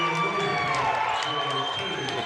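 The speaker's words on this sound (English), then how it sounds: "The crowd kind of explodes here." Spectators at a varsity girls basketball game against Roscommon roar into a sustained, dense cheer that fills the gym, loud and steady with scattered shouts and whistles throughout.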